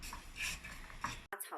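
Fennel seeds are stir-fried in a wok, with a soft scraping and shuffling of spatula against metal and a faint dry sizzle, brief and close.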